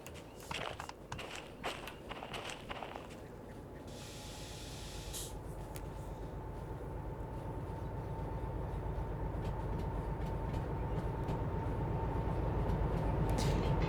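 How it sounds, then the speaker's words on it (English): Heavy freight train hauling excavators in the Derail Valley simulator: a few footstep-like clunks, a short air hiss, then a steady rolling rumble that builds louder, with no voices. "You can feel and sense and even hear the weight of this train."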